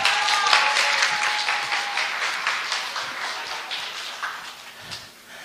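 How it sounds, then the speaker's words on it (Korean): An audience at a lecture breaks into applause, a dense, even clapping that starts strong and slowly tapers, with a faint tone lingering at the start and no talk over it. "박수 한번 주세요."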